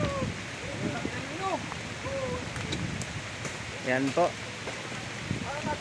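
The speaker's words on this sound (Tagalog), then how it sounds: "Ayan po, malakas po yung ilog." A strong river's rushing water roars steadily as the current flows, a constant broadband wash with a person talking over it.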